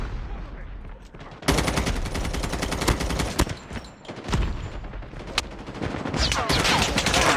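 Call of Duty gunfire: dense rapid automatic bursts crackle close and loud, with sharp single shots and brief lulls between sustained volleys, and game voices call out faintly underneath.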